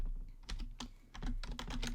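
Fast, close clatter of keys on a computer keyboard as Java code is typed, in irregular bursts with brief pauses between.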